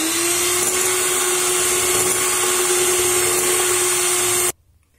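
An electric mixer beats Armenian hedgehog-Angelica cake batter while sugar is gradually added, giving a loud, steady, close motor whine that cuts off abruptly near the end.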